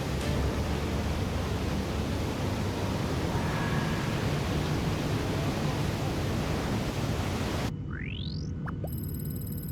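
Iguazu Falls gives off a constant, dense roar of falling water, broad and steady. Near the end it drops to a quieter background with a faint bird call.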